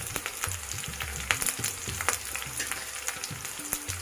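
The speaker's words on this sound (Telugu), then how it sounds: "నెక్స్ట్ కరివేపాకు వేసుకుందాం." Curry leaves hit hot oil already frying green chillies in a home kitchen, giving a steady close crackling sizzle with sharp pops and spits throughout.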